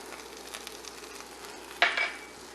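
Pearl onions caramelizing with brown sugar in a pan over medium heat give a steady low sizzle, broken near the end by a sharp scrape of a utensil against the pan and a brief louder hiss.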